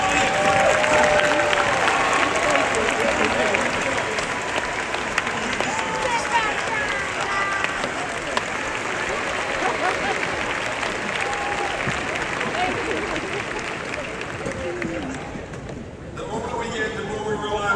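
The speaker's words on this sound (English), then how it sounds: "let your graduates applaud you, because you all paid the bills" Sustained applause from a large crowd at a UMBC graduation ceremony, dense and loud throughout with scattered cheers, tapering off slightly near the end.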